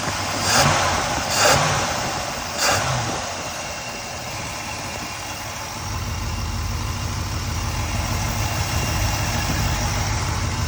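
A freshly rebuilt 350 engine in an El Camino idles smoothly and steadily, a low continuous rumble that grows slightly fuller partway through, with a few brief sharp knocks near the start.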